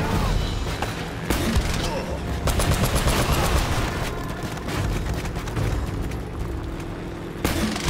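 Dense rapid gunfire in the video game Uncharted: Drake's Fortune, bursts of automatic shots and scattered single cracks rattling almost continuously and loudly across the whole stretch, with a couple of heavy impacts.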